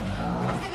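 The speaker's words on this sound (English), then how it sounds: "All right, Sophia is going to see the goat." A goat in a farm pen gives a short, loud, nasal bleat close by, lasting under a second.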